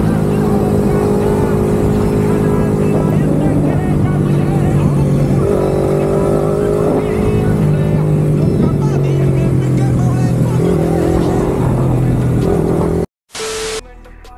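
Yamaha MT15 motorcycle fitted with a new aftermarket exhaust, its engine note loud and steady with rising and falling revs close by for about thirteen seconds before it cuts off abruptly.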